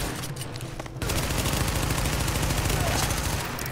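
Sustained automatic gunfire in The Division, a dense rapid rattle of shots that starts abruptly and continues loud and unbroken, with a voice underneath.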